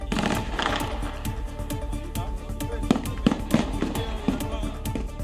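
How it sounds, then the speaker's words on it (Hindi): Sharp cracks of gunfire at a political gathering, captured on a mobile phone, ring out in an irregular burst of close, loud pops over crowd noise and voices. "मोबाइल वीडियो में गोलियों की आवाज सुनी जा"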